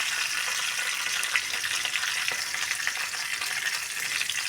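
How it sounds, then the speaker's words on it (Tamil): Mustard seeds and curry leaves frying in hot oil for a garlic and chilli chutney, a steady, close, dense sizzle with faint crackles and pops throughout, no voices. "இப்போ நம்ம கருவேப்பிலையும் போட்டுடலாம். நல்லா பொரியட்டும்."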